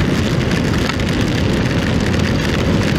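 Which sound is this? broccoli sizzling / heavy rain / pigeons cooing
heavy rain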